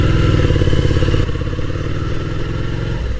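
A motorcycle ridden solo through Munich during the Distinguished Gentleman's Ride, its engine droning loud and close, steady, then dropping slightly in pitch and volume partway through as the rider eases off, with wind rumble underneath.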